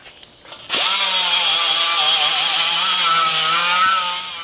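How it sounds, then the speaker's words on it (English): A power-driven wire wheel spins up and cleans a gouged aluminum wheel rim before welding, giving a sudden loud, steady whirring grind with a slightly wavering pitch that fades briefly at the end, close and without talk. "what I usually do is I hit it one more time with the wire wheel just to make sure everything's super clean"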